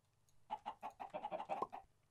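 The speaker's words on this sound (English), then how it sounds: "I hear chickens pop out eggs." Chickens in the video game Minecraft give a quick run of soft, close clucks, about eight short pulses in a row over a quiet background.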